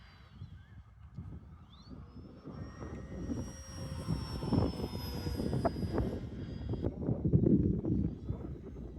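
Radio-controlled model airplane flying overhead at a field, its engine rising from a faint whine to a louder, buzzy drone as it comes closer, with wind rumble underneath.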